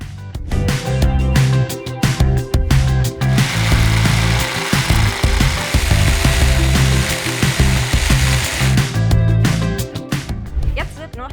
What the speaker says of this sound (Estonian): Järgmisena saeme Parkside'i 20-voldise saabelsaega läbi all olevad latid.